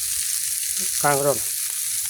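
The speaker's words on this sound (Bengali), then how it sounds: "এই মাছের ডিম ভাজি নিলাম" Fish roe fries in a pan with a steady, bright sizzling hiss that runs throughout, while a voice briefly speaks a single word partway through.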